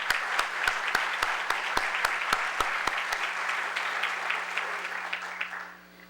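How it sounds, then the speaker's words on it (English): Audience applause fills a town hall: a dense, steady wash of clapping from a crowd, with some sharper claps standing out early on, before it thins and fades near the end. "Please help me applaud."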